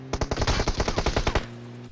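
Rapid automatic gunfire from the mobile game PUBG Mobile: about a dozen loud, sharp shots fired in a quick steady burst, close and on their own, then a short ringing tail.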